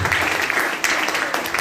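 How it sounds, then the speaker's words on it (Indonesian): Applause from a school audience in a hall during a legal-education talk, a dense, steady patter of clapping filling the short stretch at fairly loud level. "Boleh beri tepuk tangan kepada beliau."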